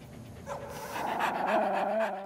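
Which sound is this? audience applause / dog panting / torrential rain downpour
dog panting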